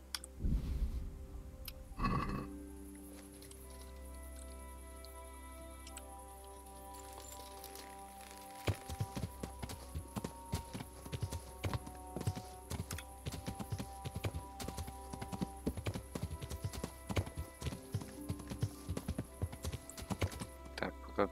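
Horse hooves clip-clopping in the medieval game Kingdom Come: Deliverance, a quiet stretch with a brief clatter, then a steady, brisk run of hoofbeats continuing to the end.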